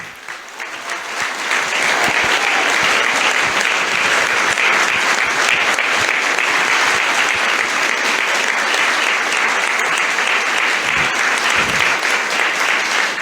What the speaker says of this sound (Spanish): al periodista Pedro Brigger, para quien pido un fuerte aplauso.